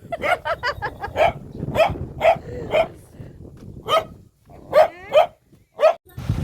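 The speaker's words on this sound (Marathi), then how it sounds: "दुसऱ्या बायकांना ब्रुणो प्रत्येक बायकांना भुंकायचा" A dog barks repeatedly and close by in an outdoor setting where women are gathered around a swing, giving a quick run of sharp barks followed by spaced single barks and a few higher yelps.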